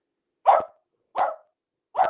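Three separate dog barks spaced about evenly apart, each short and fairly loud, with quiet gaps between them and no talking.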